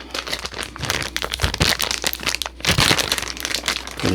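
A razor blade slices through the vacuum-sealed plastic packaging of a Rocnel 2026 Master Class Type 2 razor, producing close, crisp crinkling and crackling in short irregular bursts with no talking.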